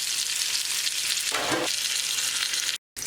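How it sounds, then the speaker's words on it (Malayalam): Chicken frying in a pan over a low flame for Mandi, giving a steady broadband sizzle with a brief louder crackle midway and a short cut near the end, no talk. "ഒന്ന് ചെറിയ തീയിലിട്ടിട്ടൊന്ന് പൊരിച്ചെടുക്കാം"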